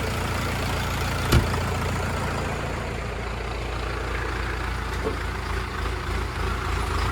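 A Scout TE-504S tractor's heavy diesel engine rumbles steadily at low pitch, idling or moving off slowly, with a single sharp knock early on and faint clatter.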